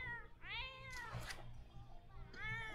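A cat in The Sims 4 gives two clear, drawn-out meows, one near the start and one at the end, with game background sound running throughout.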